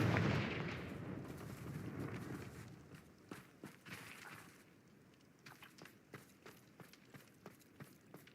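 A Confringo blasting curse in Hogwarts Legacy lands as a broad booming burst that rumbles and fades over a few seconds, followed by a run of light, quiet footsteps.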